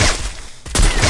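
Loud bursts of gunfire crackle in a mobile battle royale shooter game, with a dense volley at the start, a brief lull, then another rapid barrage, all close and without talk.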